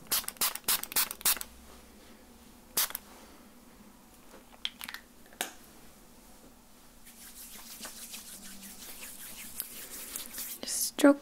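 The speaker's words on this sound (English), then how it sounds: "I'm just gonna spray a little on my hands." A few short sprays hiss close by, followed by soft rubbing and faint whispered talk.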